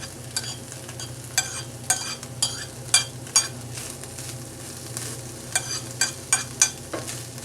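A chopped ingredient, part of a beef birria preparation, frying in a pan with a steady low sizzle, broken by scattered sharp clinks and scrapes of stirring, with no talking.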